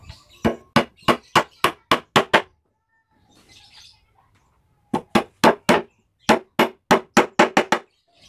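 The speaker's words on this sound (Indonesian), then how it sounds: "Selanjutnya kita paku." Nails are hammered into a wooden cart leg frame for a motorbike cart, two bursts of sharp, evenly spaced close blows, about seven and then about twelve, with a short quiet gap in between.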